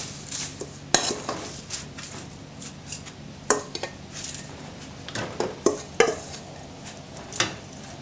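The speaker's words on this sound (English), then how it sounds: "Now I'm going to put my biscuits into my base, and I'm basically just going to spoon them in" Crushed biscuits are spooned into a cheesecake base, with intermittent metal spoon clinks and taps against the tin and soft gritty scraping between them, close and fairly quiet.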